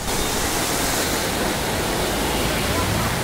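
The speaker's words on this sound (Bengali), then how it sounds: "এই যে ঢেউ, পদ্মার ঢেউ" Wind-driven waves on the Padma river in rain give a loud, unbroken rushing roar, close and heavy, with constant wind buffeting.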